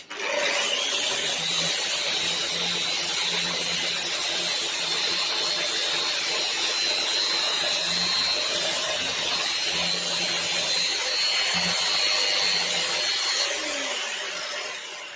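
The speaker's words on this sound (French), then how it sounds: "c'est un produit qui se ponce assez vite" Power sander running steadily on stripped wood being prepared for painting, a continuous close whine with a high tone and rubbing texture that holds for most of the stretch before winding down near the end.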